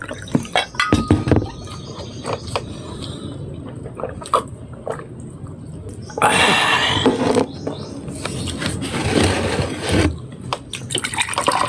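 Water is poured into a glass at a casual home meal, with clinking glassware and splashing bursts that swell in the middle, interspersed with short clatters of dishes; no clear speech.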